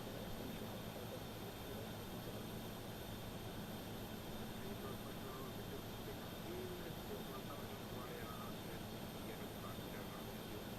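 A PMDG 737-800 pushing back in Microsoft Flight Simulator gives a steady, even drone of aircraft engine and airframe noise that holds at one level throughout, with no distinct events standing out.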